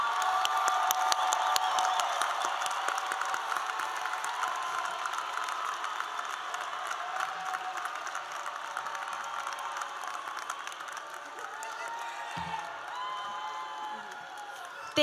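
A crowd at a 2022 undergraduate university commencement ceremony applauds and cheers, a broad, even wash of clapping that slowly thins over about fifteen seconds and is heard from a distance.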